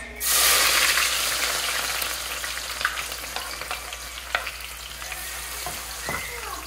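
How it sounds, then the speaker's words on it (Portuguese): Chopped onion hits hot oil with a loud burst of frying that settles into a steady, dense sizzle with occasional pops and faint stirring clicks, close and alone. "Aqui eu tô aquecendo bem o óleo, porque eu vou colocar, olha, uma cebola picadinha."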